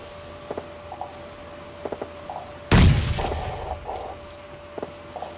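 One heavy gunshot-like boom from the video game PUBG stands out over faint background clicks and pops, followed by a rolling echo, with a few distant shots after.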